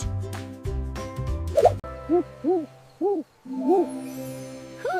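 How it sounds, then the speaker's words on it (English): An owl hoots five short, soft, rounded times at uneven intervals, after a brief burst of musical tones at the start. "Who's awake at night? It's an owl."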